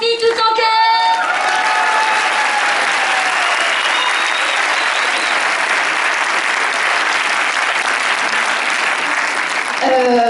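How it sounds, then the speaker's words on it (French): An audience applauds Sophie with loud, sustained clapping and some cheering, rising quickly after a brief opening voice and tone, holding strong for about nine seconds before a voice returns at the very end. "applaudissons Sophie tout en cœur"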